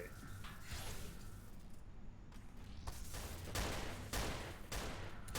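Gunfire from bolt guns and a laser rifle in the sci-fi shooter Dystopia during a competitive match, rapid overlapping shots and bursts at a moderate distance, fairly faint, with a commentator talking over it.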